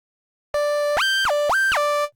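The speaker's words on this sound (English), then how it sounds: "it's a sine wave, the more pure sound that you can get" A pure synthesizer sine-wave tone holds steady, then bends upward and back down twice in smooth glides before cutting off.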